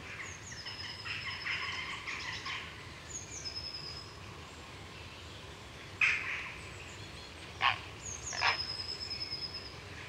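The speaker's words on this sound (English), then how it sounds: "That clacking sound is chicks calling for food." Heron chicks on a wooded island clack and call for food, a steady busy chorus with a few sharper, louder calls standing out near the end.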